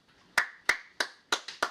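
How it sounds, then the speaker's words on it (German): Sharp, sparse handclaps ring out close by, about six in less than two seconds and unevenly spaced, alone in an otherwise quiet moment around a band's performance of a song. "Applaus."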